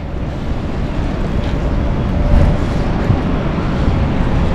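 Strong sea current and waves surge around a boat, a loud, dense wash of water roar mixed with buffeting wind on the microphone, steady throughout with a brief swell in the middle.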